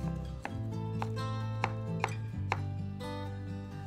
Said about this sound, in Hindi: फर्स्टली हम कैरेट्स को डाइस करेंगे.